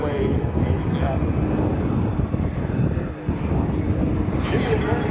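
A two-thirds scale P-38 Lightning replica flies at an airshow with a steady, loud engine roar and wind rumble throughout, briefly dipping midway, while a voice speaks faintly underneath.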